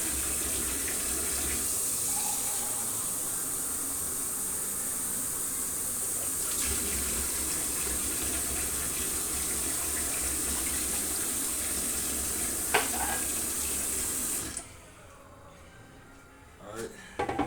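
Tap water gushes steadily into a pot, measured out as four cups for cooking 250 grams of spaghetti, a continuous hiss that runs loud and close before cutting off near the end.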